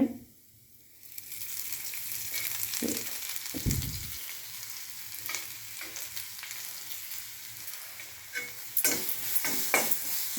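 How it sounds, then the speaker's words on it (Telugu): Grated carrot frying in ghee in a pan, with a steady soft sizzle and occasional scraping stirs of a spoon, moderately close and without talk. "గీ వేసి కాసేపు క్యారెట్ మనం ఫ్రై చేసుకుందాం"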